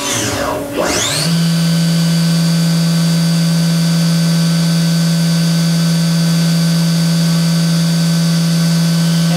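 Spindle of a Haas Super Mini Mill vertical machining center spinning up to 10,000 RPM, a rapid rising whine that settles within a second into a loud, steady high-pitched mechanical hum with no voices.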